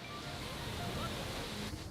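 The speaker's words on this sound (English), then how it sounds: "We're almost at La Fortuna waterfall, it's right in front of us." La Fortuna waterfall in a Costa Rican forest, heard as a steady, loud, close roar of falling water with wind buffeting the microphone.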